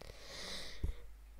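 A single short, loud cough bursts out at the very end, preceded by a faint low thump and quiet background hiss, with no talking.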